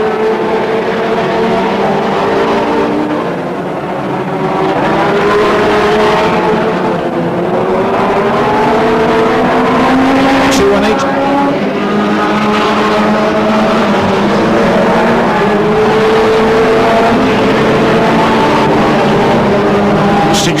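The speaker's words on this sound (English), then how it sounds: "car number 218 then hurtles down that far side, having just passed Dunford in car number 186 to take the lead" BriSCA F1 stock cars race at Northampton, a dense roar of many engines revving and droning continuously, rising and falling as cars pass around the oval, loud and unbroken without voices.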